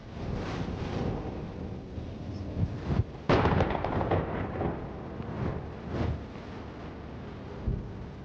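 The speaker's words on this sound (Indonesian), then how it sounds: "Bahkan kali ini disertai dengan guntur yang menggelegar." Deep rolling thunder rumbles through steady heavy rainfall in Solo, Central Java, swelling into a louder crack midway before fading back into the wash of rain.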